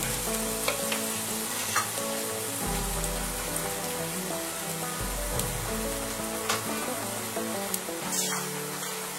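Pieces of guinea fowl fry gently in a pan, a soft, steady crackle and patter like light rain with scattered louder pops, fairly quiet and continuous.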